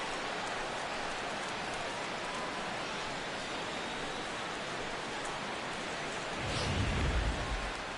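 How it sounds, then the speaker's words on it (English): Steady rain hisses across a ballpark in a Brewers at Indians baseball video game, a dense, even wash of noise with a low rumble swelling near the end. "This may have something to do with the rain that's falling out there."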